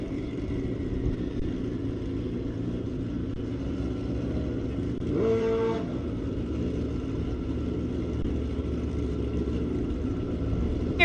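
Drag racing motorcycles, a Kawasaki among them, rumble steadily at a racetrack during ET finals, with a brief rising rev burst midway over continuous low engine noise.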